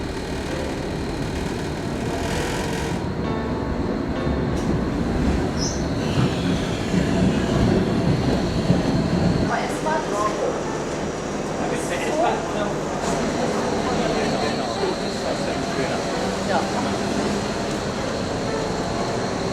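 A Berlin tram rolls along its rails with a steady rumble and a faint wheel squeal, loud and close from on board, with a shift in tone partway through.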